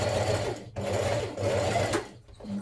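Stay stitching along a blouse neck edge, a sewing machine runs in close, steady whirring bursts with a few brief stops between them.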